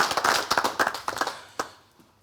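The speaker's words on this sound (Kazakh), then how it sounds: "қазір кішкене бір шапалақ" Audience clapping at a Kazakh rap battle: a short burst of sharp, separate hand claps that thin out into a few scattered last claps before fading to quiet.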